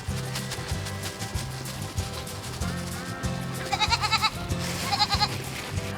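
Goats at a farm where visitors sit on mats among them give a few quick, wavering bleats in two bursts, set against a steady, rhythmic background of music.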